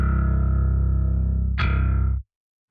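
OTTO L.E.A.D. bass VSTi playing a tremolo-picked C, a loud, rapid flutter of repeated low picked notes that shifts with a sharp pick attack near the end before cutting off into silence.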